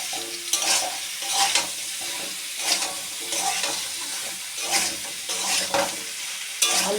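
Ridge gourd going into a pan of frying potatoes, with a constant sizzle broken by repeated bursts of stirring and scraping, close and fairly quiet, with no voices.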